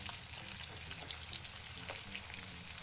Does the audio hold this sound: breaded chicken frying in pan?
yes